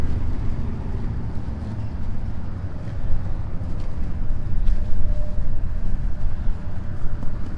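A 2022 Yamaha R7 700cc demo motorcycle rides at the Sturgis rally in South Dakota, its engine a loud, continuous low roar mixed with wind rush that swells slightly midway, with no talking.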